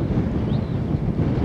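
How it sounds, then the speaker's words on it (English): Strong wind gusting on a coastal walk from Berwick to Seaford, a loud continuous low buffeting rush against the microphone without any voice. "Very windy now"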